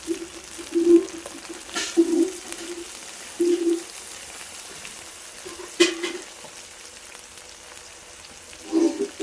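Ginger and garlic paste frying with onions in a pan gives a steady close sizzle, with soft periodic stirring knocks and no speech.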